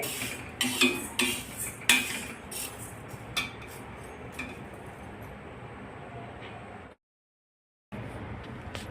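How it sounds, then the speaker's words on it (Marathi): Jowar (sorghum) grains roasting in a pan, heard as a run of clinking, scraping stirring strokes against the metal that are loud at first, then fade to faint rustles before a brief silence. "आता आपली ज्वारी भाजून झाली आहे"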